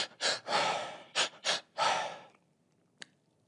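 A breathing exercise heard close up: pairs of quick inhales each followed by a single longer exhale through the mouth, repeated in a steady rhythm, then quiet apart from one small click.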